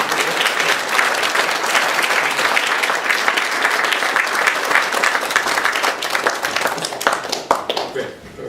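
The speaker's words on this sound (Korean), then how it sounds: "감사하는 의미에서 박수로" A church congregation at a Korean ordination thanksgiving service bursts into loud, sustained applause that holds steady and then tapers into scattered claps near the end.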